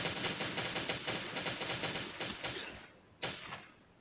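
Rapid gunfire from a weapon in the survival game Last Day on Earth, a dense run of repeated shots for several seconds, then a pause and one more short loud burst, fairly close.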